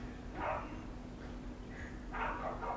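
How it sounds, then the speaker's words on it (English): Two dogs barking back and forth indoors at a distance, a few muffled barks and yips in short bursts with pauses between. "That's my dog rousing up the neighbour's dog"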